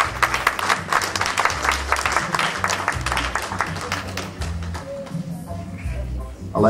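A church congregation at a deacon's 50th birthday celebration applauds steadily and loudly for several seconds over a low, rhythmic musical backing, and the clapping thins toward the end.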